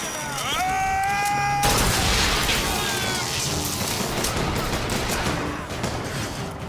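Chaotic gunfire in BioShock Infinite, a dense, continuous crackle of shots and impacts over a loud battle din, with a rising whine at the start.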